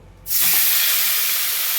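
Taro leaves tipped into hot oil over a tempering set off a sudden loud, broad sizzling hiss that stays steady and close after a quiet start.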